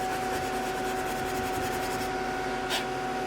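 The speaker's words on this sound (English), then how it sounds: "we go ahead and just a few swipes on the sandpaper here" Sandpaper rubs against the wooden tone board of a handmade duck call in a small shop, a steady close scratching texture that continues evenly throughout without speech.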